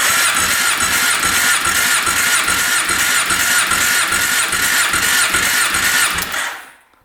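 An ATV engine cranks steadily with the throttle held open during a compression test, a loud, continuous rhythmic churning that runs for about six seconds and then cuts off into silence.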